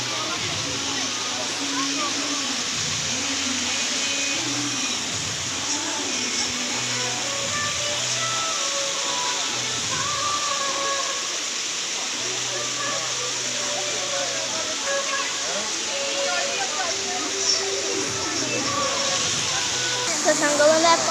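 Water rushes continuously in a steady roar, like a waterfall nearby, while someone talks over it.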